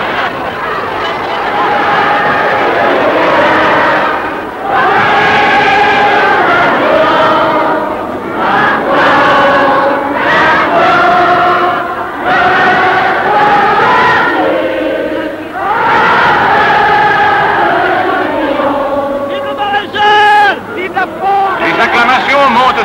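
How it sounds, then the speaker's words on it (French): A large crowd in Paris cheers and acclaims Marshal Philippe Pétain, a loud, sustained roar of massed voices with rising shouts and swells, continuous throughout. "Les acclamations montent sans fin vers le grand soldat"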